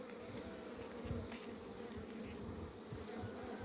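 Kılıç honeybees from an eight-frame package colony hum in a dense, continuous, fairly close drone, with no talking.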